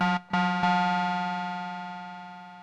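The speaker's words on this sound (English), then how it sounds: "And let's start to get a pluck sound." Synthesizer pluck notes, shaped by a snappy ADSR envelope with frequency modulation: two quick sharp attacks, then a third note that rings on with a bright harmonic tone and slowly fades.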